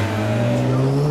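A tuner car pulls away hard from JapFest 2024, its engine note climbing steadily as it accelerates, loud and close for about a second with no talking.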